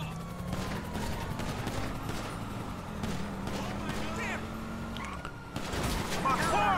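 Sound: gunfire from NPCs in the video game GTA V

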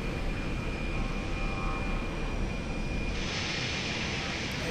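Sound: jet aircraft engines at idle, Lock On video game

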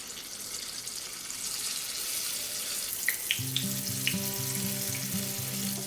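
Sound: unniyappam batter sizzling in hot coconut oil in appam pan

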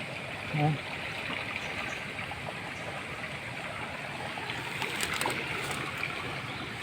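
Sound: strong river current flowing in flood

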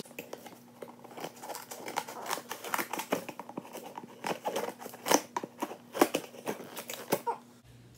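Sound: scissors cutting open plushie packaging

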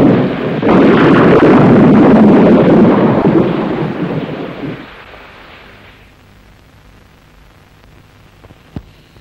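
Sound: thunderstorm with thunder and rain

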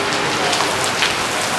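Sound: heavy rain falling around a village stay

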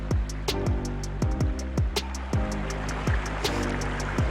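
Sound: flowing stream water

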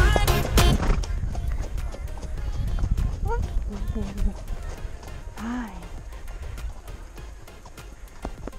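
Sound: horse trotting, hoofbeats

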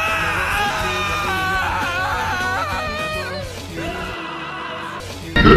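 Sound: character Ishimaru screaming in a video game

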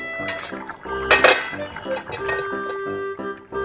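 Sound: lifting the lid off a cooking pot

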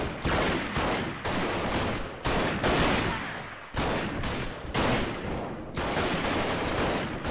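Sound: gunfire in the video game Freeman Guerrilla Warfare

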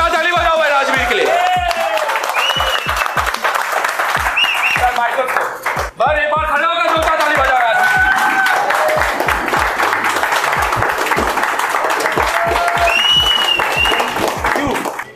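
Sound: audience applauding the winner Rajveer

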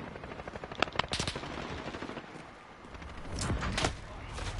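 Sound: gunfire in video game Call of Duty Modern Warfare

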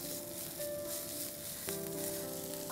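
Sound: onions frying and browning in a pan

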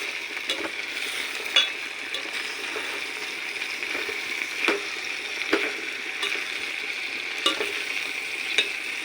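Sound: stirring cucumber pieces with dried prawns in a frying pan

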